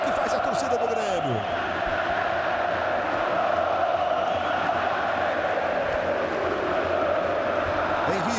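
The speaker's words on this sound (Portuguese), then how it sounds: "Olha só a festa que faz a torcida do Grêmio" Grêmio supporters in a packed stadium during a Brazilian league match against Botafogo sing and cheer in a steady, distant roar of crowd noise, with a commentator's voice running over it.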